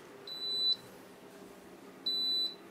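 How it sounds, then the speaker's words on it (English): Two shrill electronic beeps from a solar power inverter's low-voltage alarm, each about half a second long and spaced well apart, over a faint low hum. "The alarm is actually on the inverter."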